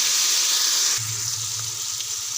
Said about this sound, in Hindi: साथ ही हम डाल देंगे कटे हुए टमाटर